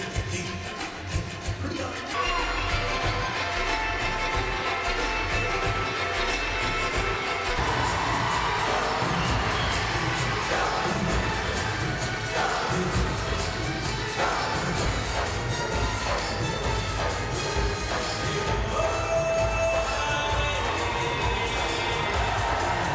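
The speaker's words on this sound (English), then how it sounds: "And the crowd loves it." An Olympic arena crowd at the Vancouver 2010 ice dance cheers for an American couple's Bollywood-themed routine. The roar of applause is continuous and fills the space over music.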